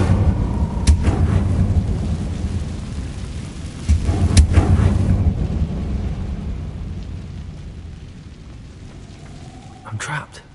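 An Incendio fire spell cast in Hogwarts Legacy: loud whooshing bursts and blasts over a deep rumbling roar that slowly fades, with a final sharp burst near the end.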